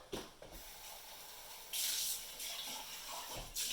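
Water runs into the tank of a DeLonghi manual coffee machine in bursts, a close hissing, splashing flow that starts and stops a few times.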